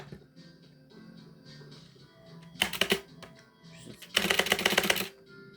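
Rapid computer keyboard typing comes in two dense bursts during a horror survival game, each a close clatter of many keystrokes lasting about a second, with quiet gaps and faint low background sound between them.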